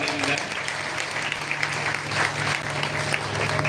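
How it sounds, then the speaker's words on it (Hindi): Listeners at a Hindu religious discourse and kirtan gathering clap together, a steady, busy patter of applause in a reverberant hall with a low hum underneath and some voices mixed in. "तो मास्टर जी के लिए भी जयप्रकाश जी के लिए एक बार जोरदार ताली दी जाए।"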